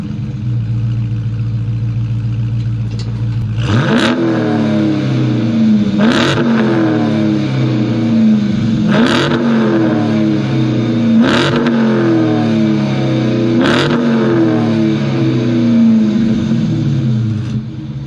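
A 2023 Chrysler 300C Hemi V8 engine cranks and fires up, then revs sharply several times in a steady rhythm, each rev rising and falling back to a loud idle.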